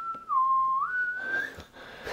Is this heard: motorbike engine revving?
no